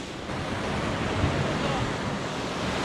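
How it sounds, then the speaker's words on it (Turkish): Sea waves crash against sharp rocks along a rocky shore, a loud continuous roar of churning surf and spray with wind buffeting the microphone close up. "Dalga çok fena vuruyor direkt."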